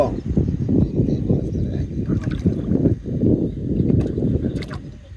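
A small rowing boat moves through floodwater roughly seven to eight deep, giving a steady close wash and gurgle of water throughout, with faint bird calls in the background.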